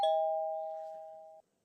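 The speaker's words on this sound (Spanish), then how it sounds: "Cuando llega al tercer piso, Carlos llama al timbre de la puerta," A doorbell sounds once in an apartment building, a clean electronic tone that rings steadily and then cuts off sharply after about a second and a half.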